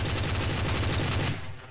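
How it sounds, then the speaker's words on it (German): Gunfire in the Trouble in Terrorist Town video game, a dense, loud burst of rapid automatic shots pounding steadily for over a second before cutting off abruptly. "Dave hat auf ihn geschossen und ich habe Dave geschossen."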